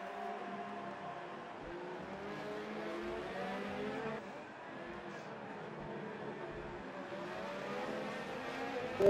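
Racing car engines in a video game league race at the Mexico round, a steady droning whine of several engines sustained throughout under commentary talk.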